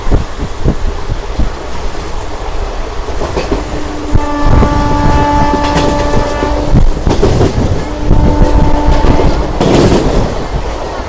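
The Tirupati Puri Express rolls through a station where it makes no stop, wheels clattering over the rails, with two long horn blasts, the first sustained for a few seconds and a shorter one soon after.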